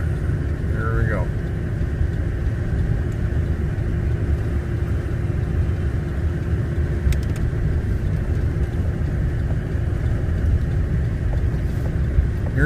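A car drives along a snow-covered rural road, giving a steady, loud low engine and road rumble from inside the cabin, with someone talking briefly over it.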